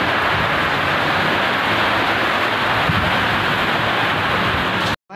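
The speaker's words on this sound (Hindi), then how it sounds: "बारिश इतनी तेज हो रही है" Heavy rain pours down outdoors in a dense, loud, continuous hiss that fills the whole scene and then cuts off abruptly at the end.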